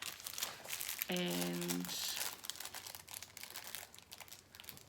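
Plastic crinkling and rustling close by, with a brief spoken word and a short tonal hum partway through.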